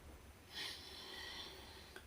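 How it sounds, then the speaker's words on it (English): Someone sniffing at pumpkin bread, giving a soft snorting inhale and then a quiet breathy trail, close and faint in an otherwise quiet room. "Somebody was sniffing at your pumpkin bread there"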